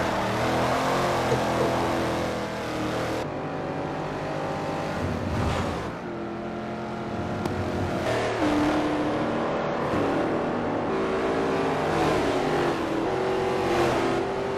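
A 1968 Pontiac Firebird race car roars through a racing video game, its engine revving up and down in steady loud sweeps over continuous road noise, with other cars nearby and no talk.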